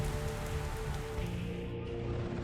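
Rain in the DCS World flight simulator falls steadily over water, a dense, even hiss of droplets holding at a constant level throughout with no voices.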